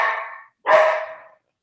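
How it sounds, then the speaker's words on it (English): Dogs bark outside at night, two distinct loud, close barks with a short pause between them and nothing else around. "the dogs are barking at the outside"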